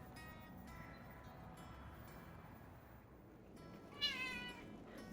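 Indoors, a cat gives a couple of faint, drawn-out meows over quiet room noise, followed by one slightly louder, clearer meow near the end.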